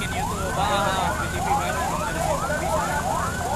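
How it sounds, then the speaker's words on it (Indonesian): An ambulance siren wails in repeated rising sweeps as it passes through a street demonstration by labor groups, heard amid dense crowd noise and rumble. "Dibuka dulu, ada ambulan."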